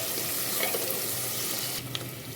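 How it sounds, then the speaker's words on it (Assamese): Chopped onions fry in a pan of hot oil that spits where leftover water meets it, a steady broadband sizzle running throughout with a brief louder crackle near the end. "তেলখিনি উফৰিব ধৰিছে, পিঁয়াজখিনি অকণমান মই ভাজি ল'ম।"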